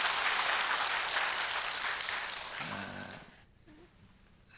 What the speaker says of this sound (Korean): 우리 민치와 우리 태우를 위해서도 여러분 박수 한번 해주세요